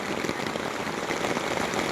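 Heavy rain pours down in a dense, steady hiss of countless drops striking surfaces, loud and unbroken throughout.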